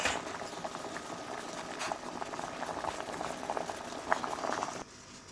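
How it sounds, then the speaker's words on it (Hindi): Lemons, amla and green chillies boiling in a pot of water on a stove: a steady close bubbling and popping fizz throughout, ending abruptly near the finish. "ये बॉयल हो गया ऐसे"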